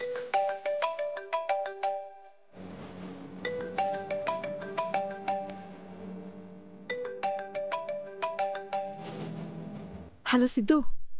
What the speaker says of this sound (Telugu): సిద్ధుకి ఫోన్ చేస్తే